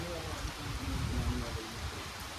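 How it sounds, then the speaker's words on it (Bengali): Rain falls at the Bhimbetka rock caves in Madhya Pradesh, a steady soft hiss of drops on rock and foliage that stays fairly faint and even throughout. "বৃষ্টি এসে গেছে, কিন্তু ভয় নেই।"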